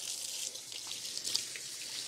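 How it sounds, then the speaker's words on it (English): Tap water runs steadily from a kitchen faucet into a sink as hands are washed, a soft, continuous hiss close by with no talking. "So I'm going to wash my hands"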